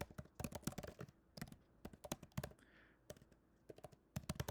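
Rapid, uneven clicking of keys being typed on a computer keyboard, close and fairly quiet, with brief pauses between bursts.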